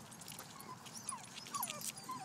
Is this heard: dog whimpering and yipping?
yes